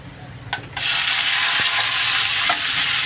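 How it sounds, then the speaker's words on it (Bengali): Vegetables frying in oil with browned garlic in a pan for chilli prawns, a loud steady sizzle that swells as they go in and continues with a brief stir partway through. "সবজিগুলো একটু ভাজা ভাজা করে নেব ভালো করে"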